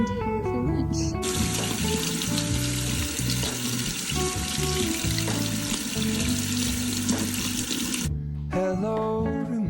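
Water runs steadily from a kitchen tap while a freshly dug garden potato is washed, a continuous hiss with faint clatter and background music.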